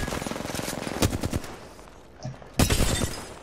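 Short bursts of rapid automatic gunfire in the video game Apex Legends crackle close by, separated by brief pauses, then one final burst.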